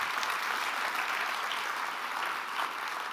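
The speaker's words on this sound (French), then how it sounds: "Alors que tous ceux qui le croient applaudissent, s'il vous plaît, le roi des rois." Church congregation applauding steadily and loudly throughout, a dense sustained wash of clapping with no pauses and no speech over it.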